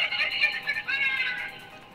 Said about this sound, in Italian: È un gatto!